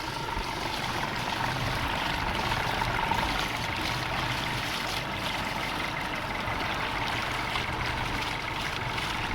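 Yamaha outboard motor with a failing fuel pump, running steadily in gear on the water, a continuous even drone with a broad wash of water noise and no pauses.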